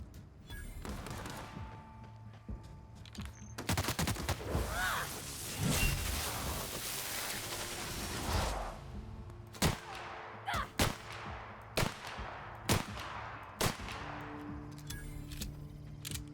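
Gunfire in The Outer Worlds video game: loud overlapping blasts and a dense barrage of shots give way to a string of sharp, separate single shots spaced a second or so apart.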